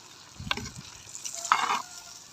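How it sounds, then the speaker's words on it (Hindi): Fish in onion, tomato, garlic, ginger and green chili masala is stirred and fried in a pan, giving two short close bursts of sizzling and scraping. "फिश को भुनेंगे"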